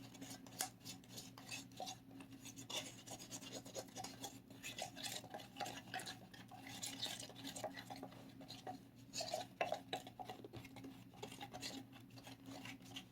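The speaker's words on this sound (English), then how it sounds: "Mix and stir, get all those clumps out." Aqua resin mixture stirred by hand in a container to break up clumps, a soft, faint, continuous scraping and rubbing with irregular rhythm.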